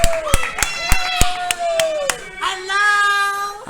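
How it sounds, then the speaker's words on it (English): Sharp, widely spaced hand claps ring out at an independent pro wrestling show, with loud voices and shouts running through them at close range. "Applaud your vice president."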